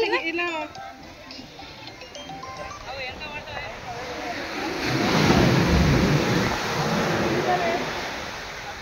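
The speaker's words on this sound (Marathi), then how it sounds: "समुद्र खवाळलाय बरं का" Big rough sea waves crashing on the shore at Kanyakumari sunset point, a broad roaring surge swelling mid-way and lingering, with people talking over the water at the start.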